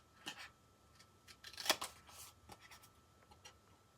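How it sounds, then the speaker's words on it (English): Paper snips cut through card stock in a few short, crisp bursts, with sharp snips spaced irregularly across a quiet background and no talking. "Now, let's take our paper snips and cut this out."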